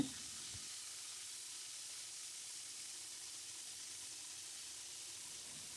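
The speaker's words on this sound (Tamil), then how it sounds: "நல்லா ஒரு ப்ரௌன் கலராக வரைக்கும் பொரிச்சிருங்க, இல்லைனா கருவாடு கரைஞ்சிரும்" Dried fish frying in hot oil, a steady even sizzle and hiss that holds at moderate volume throughout, with no voices present.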